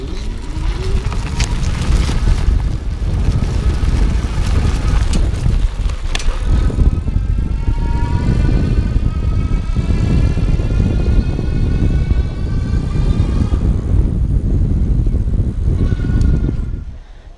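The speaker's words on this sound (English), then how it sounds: "I'm just gonna take it to zero and show the motor real quick." A Pedego Classic Interceptor e-bike's geared hub motor runs steadily for the whole stretch, a continuous loud whirring hum with rising and falling whine tones, no talking over it.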